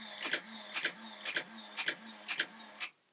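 A Chinon CE-4 film camera fires its shutter on continuous release, set to 1/1000 second: six sharp, evenly spaced mechanical clacks, each with a brief whirring wind, repeating roughly every half second, close and clear.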